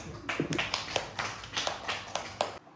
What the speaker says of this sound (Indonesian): Tepuk tangan untuk Isan, ya.